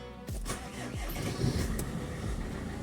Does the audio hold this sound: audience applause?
no